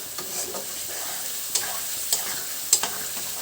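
Paneer curry masala fries in oil after being cooked down, a steady close sizzle with a few sharp spoon scrapes against the pan and no talking.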